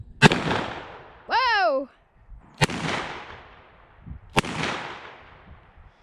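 Three sharp revolver shots are fired at a target outdoors, each a loud close crack with a decaying echo, spaced about two seconds apart; someone gives a brief startled exclamation between the first two shots.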